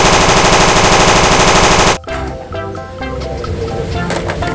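A toy M60 machine gun fires a rapid, buzzing electronic burst for about two seconds, then cuts off abruptly, leaving softer toy clatter and rustling behind it.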